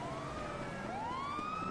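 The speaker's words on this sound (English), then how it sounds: "Oh, it's a police car." Police car siren in the GTA V video game, a steady wailing tone sweeping up in pitch, moderately loud and heard alone without talk.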